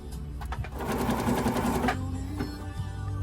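A Viking Jade 20 sewing machine, freshly serviced after a bobbin winder repair, runs a burst of stitches, a close whirring hum with rapid needle clatter that swells for about a second then settles to a quieter motor sound.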